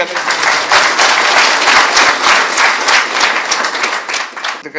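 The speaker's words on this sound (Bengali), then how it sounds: "জোরে হাততালি।" Loud, sustained applause from a large audience at a public address by Muhammad Yunus, dense steady clapping filling the space for several seconds, close and continuous.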